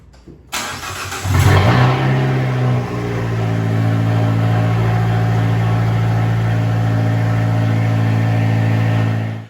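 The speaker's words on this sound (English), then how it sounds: "we're gonna go ahead and start the engine and let it run for about 20 to 30 minutes" Fiat 500 Abarth engine with an upgraded turbo and exhaust manifold cranks and fires, flares briefly, then settles into a steady, loud, close idle that holds for the rest of the clip.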